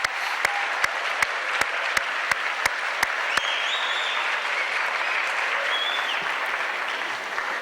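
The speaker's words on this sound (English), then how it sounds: "a nice round of applause for Mr." A school winter sports assembly crowd applauds Mr. Knowles, a steady, sustained wash of clapping lasting the whole stretch, with a few sharp individual claps standing out at the start and faint voices mixed in.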